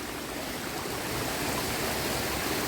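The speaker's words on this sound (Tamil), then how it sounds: "ஸோ தண்ணி சவுண்டு பயங்கரம்." Steady rushing water, a continuous broadband roar of flowing current with no voices, growing slightly louder toward the end.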